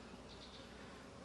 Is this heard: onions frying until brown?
no